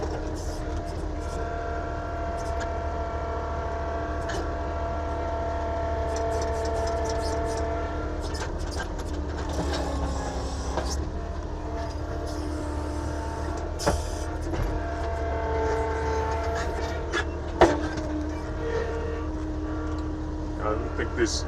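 A bulldozer levelling ground for a house build drones continuously with a steady, tonal engine hum, joined by occasional clanks and a faint voice in the background.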